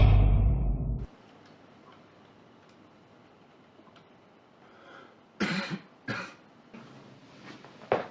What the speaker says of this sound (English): that single little cough started this all.